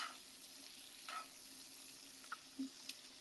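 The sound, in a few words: food searing on a grill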